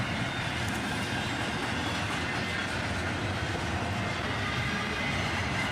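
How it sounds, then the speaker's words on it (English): A long CSX freight train rolls steadily past, a dense continuous rumble with rhythmic clickety-clack of wheels on rail joints, its cars followed by an ES44AC DPU locomotive mid-train, heard close and loud throughout. "into the train, we have a DPU locomotive, an ES44 ACH"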